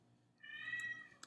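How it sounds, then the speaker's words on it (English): A cat crying in the background, one short distant meow rising and falling, faint against a quiet room. "Maybe y'all can hear that cat crying in the background."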